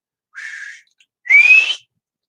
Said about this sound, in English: I whistle for it